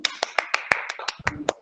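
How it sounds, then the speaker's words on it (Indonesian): A handful of sharp, separate claps for a student group in an online teaching session, close and sparse, roughly ten distinct hand strikes in quick succession. "beri tepuk tangan buat kelompoknya Mbak Cindy"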